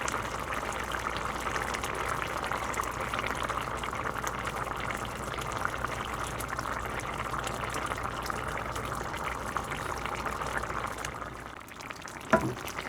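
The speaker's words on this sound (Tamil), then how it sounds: "இதுக்குள்ளே கொதித்து வந்த கறிக்குள்ளே நான் போட்டிருக்கிறேன்" A pot of fish curry simmers with fried fish added, giving a steady, moderately quiet bubbling and sizzling that continues evenly throughout, followed near the end by a brief soft knock.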